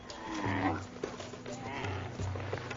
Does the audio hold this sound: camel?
yes